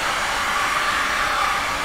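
A heat gun blows on a resin pour on a clear canvas, a steady airy whoosh with a faint motor whine, close and unbroken for under two seconds.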